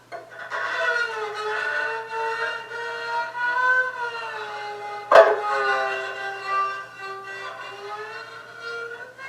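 A bowed erhu, a two-stringed Chinese fiddle, plays a sustained, sliding, wailing melody, solo and close, with a sharp knock about halfway through.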